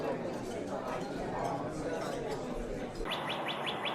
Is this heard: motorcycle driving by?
no